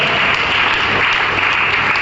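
Loud, dense applause from a meeting audience, a steady close wash of many hands clapping together without letting up.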